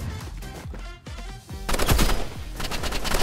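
Dense, rapid gunfire from the Roblox game Rivals, loud rattling bursts that thicken into heavy continuous shooting toward the end, with no talk over it.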